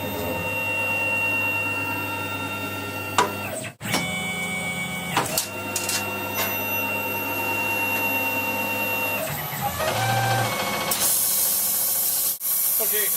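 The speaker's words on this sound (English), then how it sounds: "let's switch the machine on and we'll take it from there" A gang tooling CNC lathe whirs steadily through its first cutting passes, a loud close machine drone with tonal whines, brief clunks and shifts in pitch as the tooling moves.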